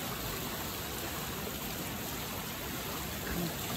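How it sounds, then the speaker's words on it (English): Fast-flowing river in Mt Hood National Forest, Oregon, rushes steadily as a faint, even hiss of moving water, continuous and unbroken without any voices. "the water moves really fast though"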